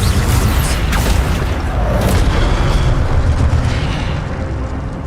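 A loud, continuous magical blast from the Expelliarmus spell in the Hogwarts Legacy video game, a heavy booming, rumbling burst that fills the whole stretch with a dense low roar and slowly eases toward the end.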